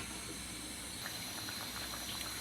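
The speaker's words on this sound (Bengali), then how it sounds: "বলক চলে আসছে" Cooking liquid thickened with rice starch water bubbles in a covered pot with eggplant and fish, a soft continuous boiling hiss with faint bubbling pops, close but quiet.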